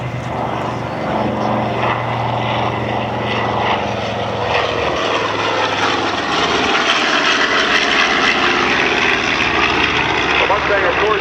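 Boeing B-47 bomber passing at a military air show, a loud sustained engine roar that swells and fills the whole clip, with crowd noise and an announcer's voice underneath.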